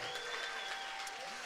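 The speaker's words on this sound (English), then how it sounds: "come on and clap for the Lord" A church congregation claps along steadily under a sung or spoken line, with the clapping blending into a continuous crowd sound throughout the short moment.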